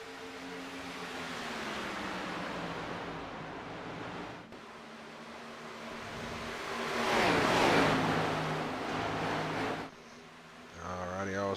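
Race cars circle the track at Charlotte in an NSRLA National Series race, a steady engine roar that rises and fades as they pass at a distance, with a commentator talking over it.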